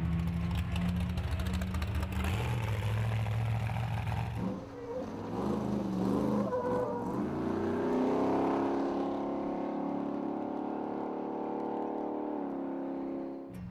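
A Ford Raptor off-road truck engine roars past loudly in Baja, its pitch shifting as it passes, then settles into a steady droning whir that gradually fades.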